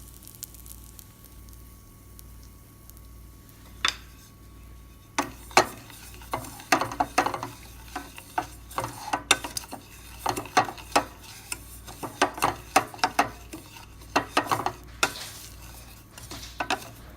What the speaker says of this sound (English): So I've been dry roasting my suji rava for at least 5 minutes.